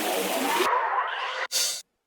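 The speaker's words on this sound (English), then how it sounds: "one thing to go over is our side chain effects, which sound like this" Sidechained synth sounds from a dubstep track pump and duck: a dense bright chord swells, drops to a thinner tone, cuts out briefly, then snaps back before stopping abruptly.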